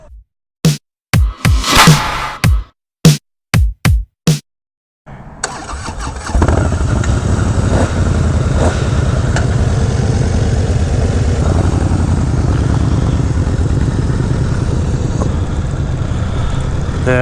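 A Honda CBR1000 Repsol sport motorcycle cranks in several short bursts, then fires and settles into a loud, steady idle close by with a buzzy, even engine note.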